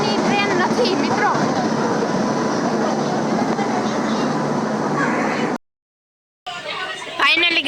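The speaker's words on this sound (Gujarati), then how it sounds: "જો આ ટ્રેન આવી છે, પણ અમારે આમાં નથી જવાનું." Train arriving at a station, a loud sustained rumble of rolling carriages with voices and chatter over it, breaking off briefly before station noise resumes.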